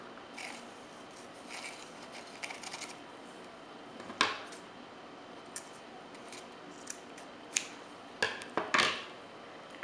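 Scissors snipping lengths of jute cord for a macrame fishnet mason jar project, a few crisp isolated cuts, close and fairly quiet, with a cluster of quick snips near the end.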